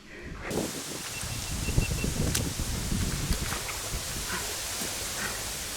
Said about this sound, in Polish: Ten wiatr zawija, że nie wiem, czy coś w kamerze słyszycie